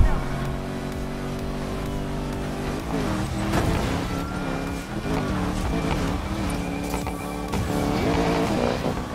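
Porsche engine revving and tires working in the Need for Speed Payback racing game, a steady loud drone mixed with background music and game sounds, with a voice speaking over it.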